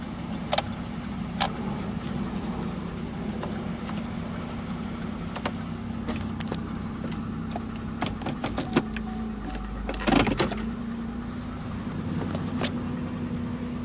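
A 2009 Dodge Grand Caravan engine idles steadily at a car dealership, a constant low hum running throughout with a few scattered clicks and ticks over it and no talk.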